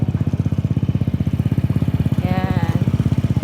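A motorcycle engine running close by, a steady rapid thumping putter throughout, with a brief voice-like tone rising over it midway.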